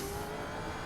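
Gen 3 V8 Supercar engine in the iRacing sim at Sonoma, short shifting up through the gears; a brief, steady, loud engine roar with no voices.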